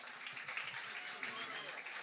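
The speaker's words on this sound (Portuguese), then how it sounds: "Palmas para a pergunta." An audience at a talk on artificial intelligence applauds a question, giving a quiet, distant patter of clapping that carries on steadily for about two seconds.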